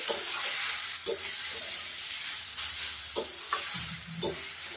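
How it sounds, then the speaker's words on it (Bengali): Radish frying in a pan and being turned now and then: a steady close sizzle broken by several sharp spatula scrapes and clacks as pieces are flipped, no voices. "মূলোটাকে মাঝে একবার উল্টে দেবো উল্টে পাল্টে একদম ভাজা ভাজা করে দেবো"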